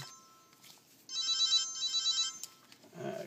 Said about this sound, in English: And of course the phone's got a ring.